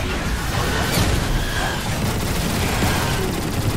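Rockets launching in Transformers: War for Cybertron, a steady dense roar of blasts and rushing noise with no pause, loud throughout.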